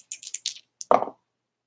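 Dice clatter in a quick run of light clicks, then land with a single soft thud before going quiet, close and brief.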